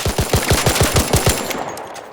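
A Burletta pistol with an extended barrel fires in the Arc Raiders game, letting off about nine rapid, loud, evenly spaced shots that then stop with a brief ringing tail.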